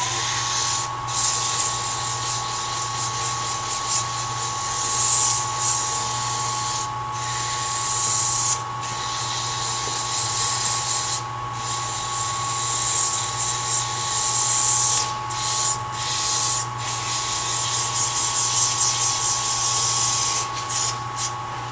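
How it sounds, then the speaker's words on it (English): Sandpaper rubs a miniature wooden nesting box spinning on a lathe, giving a steady loud hiss over the constant hum of the machine, with brief dips where the paper lifts away. "Now, sand this off."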